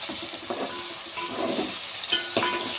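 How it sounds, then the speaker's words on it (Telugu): Brinjal curry stirred in a pan, spoon scrapes against the pan bottom over a soft background sizzle, a couple of sharper clinks near the end, close and fairly quiet, no voices. "కర్రీ అడుగంటకుండా మధ్య మధ్యలో ఈ విధంగా కలుపుతూ ఉండాలి"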